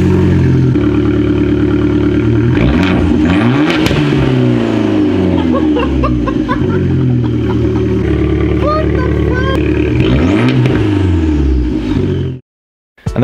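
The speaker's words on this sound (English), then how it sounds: "let's just start the motor and see how it sounds without any" Fiat MiTo GTA engine running with its exhaust removed, revved up and down repeatedly, loud and close with a raw, droning roar, then cutting off abruptly near the end.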